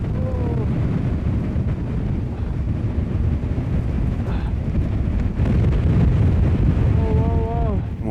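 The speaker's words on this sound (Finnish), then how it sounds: "niin se alkoi yhtäkkiä tuuli yltymään" Strong wind roars and buffets the microphone continuously on a snowboarding trip at nightfall, a loud low rumble, with a voice briefly heard beneath it.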